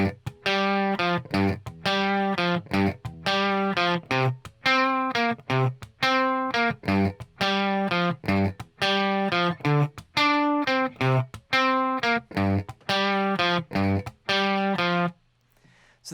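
An electric guitar with overdrive plays a single-note riff, a repeating line of clear picked notes in a steady rhythm, near and prominent, ending with a sustained note that fades.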